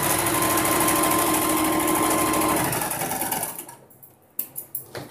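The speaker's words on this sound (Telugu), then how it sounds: "ఒక 1/2 ఇంచ్ మడిచి కుట్టు వేసేస్తున్నాను" A sewing machine runs steadily at close range, stitching a folded half-inch hem on a petticoat, then stops partway through, leaving a few brief clicks and taps of handling.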